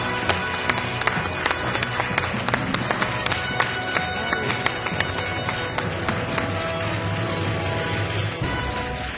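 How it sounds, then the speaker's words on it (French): Studio audience of the Questions pour un Champion game show clapping, a dense continuous patter of many hands at moderate loudness lasting several seconds, mixed with some sharp knocks and a background hum. "J'entends des applaudissements par là."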